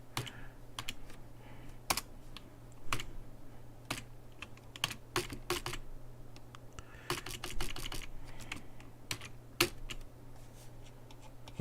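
Steady clicking and clacking of a computer keyboard as someone enters data, with irregular bursts of keystrokes over a low constant hum, fairly quiet and close, no talking.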